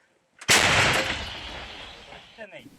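A single loud, booming blast from a 105 mm M101 artillery gun that cuts in sharply and rolls away in a long fading rumble, with brief voices stirring near the end.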